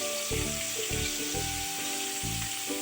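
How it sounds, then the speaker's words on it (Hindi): Ginger and garlic sautéing in a pan for a fish stew, a constant close sizzle and crackle with repeated low clanks of stirring against the pan. "अभी डाल दूंगी एक एक करके ये जो अदरक, फिर लहसुन"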